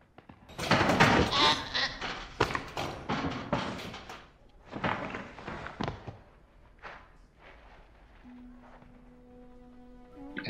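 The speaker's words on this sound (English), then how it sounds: "It's gonna make you watch that tiger eat that goat" A goat bleats loudly and repeatedly in a film scene as a tiger attacks it through the bars of a zoo cage, the cries crowded and harsh before trailing off into quieter sounds.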